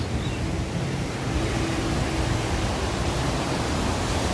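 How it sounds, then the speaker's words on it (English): Waterfalls at the Wynn in Las Vegas pour in a loud, dense, continuous rush of falling water, steady and close with no speech. "We got the waterfalls."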